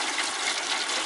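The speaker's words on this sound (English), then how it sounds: "We're going to go ahead and add some water to it." Water pours steadily into a pan set inside a Weber kettle grill, a dense, close hissing splash that continues unbroken for about a second.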